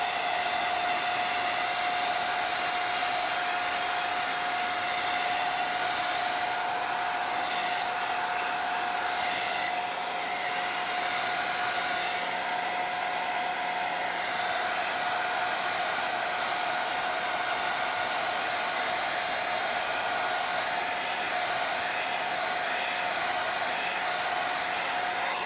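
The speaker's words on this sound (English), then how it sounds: "Take a blow dryer to it and dry it off." A hair dryer on its low setting blows over wet chalk paste on a craft project, giving a steady whirring hum with a constant whine that runs unbroken and close for nearly half a minute.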